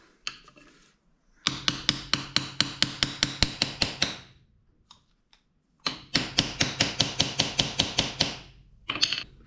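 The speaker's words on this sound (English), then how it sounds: "when you put this back in, obviously you need to hammer against the inner rim." Metal hammer striking to seat a Yamaha Super Ténéré motorcycle wheel bearing against the inner rim: two long bursts of rapid, evenly spaced sharp clanks, close and loud, separated by a pause, with a few lone taps.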